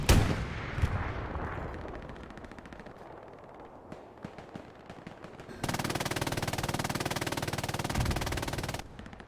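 Rapid bursts of artillery and machine-gun fire in a multiplayer war video game, first scattered sharp blasts, then a loud, sustained barrage of continuous firing near the close.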